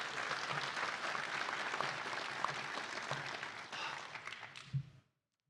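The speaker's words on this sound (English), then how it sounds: "Give him a round of applause." A police academy graduation audience applauds an instructor, a soft, distant-sounding spread of clapping that carries evenly, then cuts off abruptly near the end.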